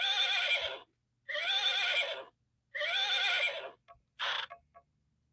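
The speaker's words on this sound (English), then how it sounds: "You know anyone else who's got a horse indoors?" A horse kept indoors whinnies in three long neighs with short pauses between, then gives a few clipped snorts, close and clear in a quiet room.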